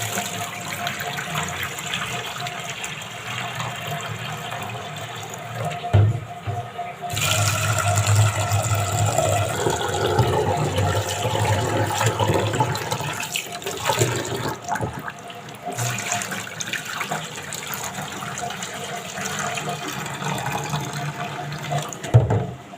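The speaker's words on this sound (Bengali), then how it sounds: "ডালটা আমি এখানে ভালো করে ধুয়ে নিলাম।" Lentils are washed by hand in water, with continuous running and sloshing water close by, brief breaks and rattles as the dal is swirled, and splashes throughout.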